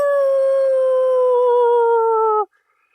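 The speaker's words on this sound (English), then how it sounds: "And all one could hear a distant howl in the distance going" A single long, tonal howl rises steadily and holds for about two and a half seconds, loud and clear with rich harmonics, then cuts off abruptly into silence.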